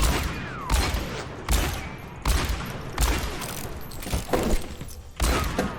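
Video game gunfire aimed at a window: a series of sharp, close shots, about eight distinct bursts spaced irregularly over several seconds, each with a booming low thump and a crackling tail.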